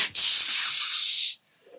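A person imitates an angry cat with one long, loud, breathy hiss lasting about a second, sharp at the start and then cutting off into silence.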